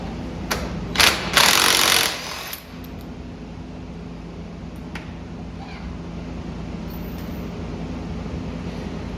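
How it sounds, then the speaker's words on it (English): An impact wrench rattles in short bursts while removing the wheels of a Mototec Mud Monster 98cc go kart, followed by quieter metallic clinks against a steady background hum. "I'm going to cheat a little bit here and use this impact wrench to take the wheels off"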